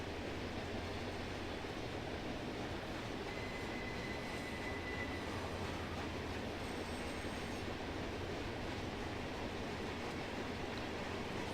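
Freight train rolling steadily through a Run8 train simulator scene, a continuous dense rumble with faint wheel squeal and no voices.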